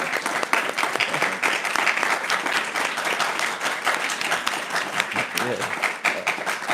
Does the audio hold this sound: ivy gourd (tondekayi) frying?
no